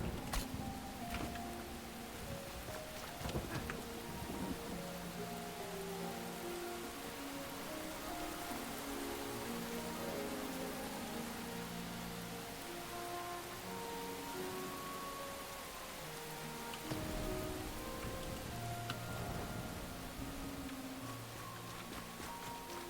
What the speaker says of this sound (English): And it is raining. Of course it is raining.